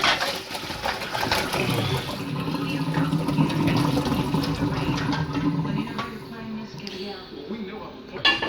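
Louisiana Cajun boiled peanuts and their liquid are poured into a container, a steady sloshing, splashing pour that runs for several seconds, close by, then tapers off with a final clink at the end.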